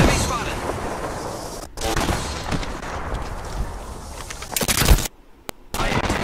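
Gunfire in the video game Apex Legends crackles in rapid bursts with sharp cuts and pauses, loud and close, with some speech mixed in.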